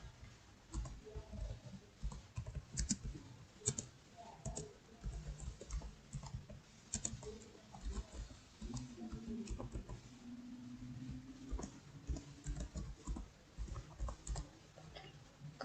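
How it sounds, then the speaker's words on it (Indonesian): Light, rapid clicks of a computer keyboard as an email address is typed, quiet and close, coming in uneven bursts with short pauses, no speech over it. "Kemudian masukkan email kita."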